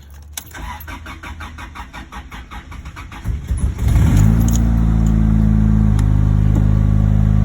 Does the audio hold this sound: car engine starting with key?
yes